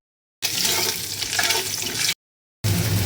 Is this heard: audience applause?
no